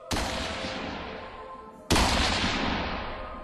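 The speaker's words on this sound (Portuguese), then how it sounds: "dando dois tiros com a canela seca batizada" Two loud gunshot effects in a Brazilian audio drama, each a sharp blast followed by a long echoing decay, the second about two seconds after the first.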